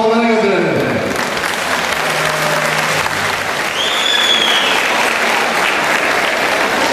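An audience at a night event of the 40th International Arhavi Culture and Arts Festival bursts into loud, sustained applause. The dense clapping holds steady and strong from start to finish.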